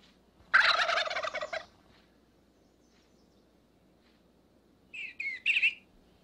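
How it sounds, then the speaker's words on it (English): Wild turkeys gobble in springtime Shenandoah woodland, one loud rattling gobble followed after a quiet pause by a shorter, slightly more distant burst of gobbling calls, with no voices present. "Their loud, characteristic gobbling carries across the hollows."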